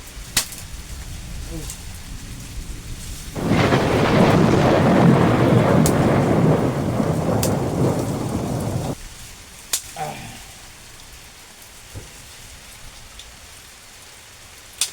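Heavy rain pours in a dense roaring burst for several seconds inside a rock cave on Mawaragala mountain near Dambana, then eases to scattered drips with sharp cracks and faint thunder.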